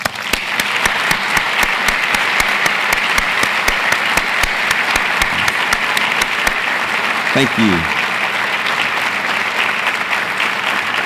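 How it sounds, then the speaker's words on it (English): Sustained applause from a university audience at an awards ceremony, steady dense clapping across the whole stretch, with a brief spoken thank-you near the end. "Let's give these individuals a hearty round of applause."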